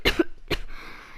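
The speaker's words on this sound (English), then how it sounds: "Had to cough" A single person coughs twice in quick succession, close and fairly loud, followed by a quiet gap with faint background noise.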